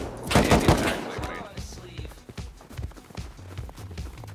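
Gunfire in the video game Rust on a snowy server, with dense rapid bursts early on, then scattered shots and crunching footstep-like thuds continuing at a lower level.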